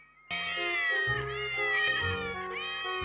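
A cat in a video game meows in a loud, drawn-out, wavering wail, close and unbroken for about three seconds, with no talking over it.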